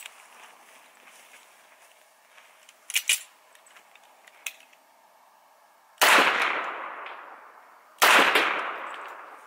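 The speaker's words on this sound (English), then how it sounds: "let's confirm that with the 45 ACP and see if these go through" Two loud .45 ACP pistol shots, Winchester 230-grain full metal jacket rounds fired into a hay bale outdoors, crack two seconds apart, each with a ringing decay, after faint handling clicks.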